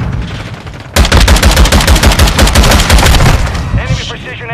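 Decoy grenades in Call of Duty: Modern Warfare 2 spitting out fake gunfire: after a brief quieter lead-in, loud rapid bursts of automatic shots rattle on continuously, close and dense, for several seconds.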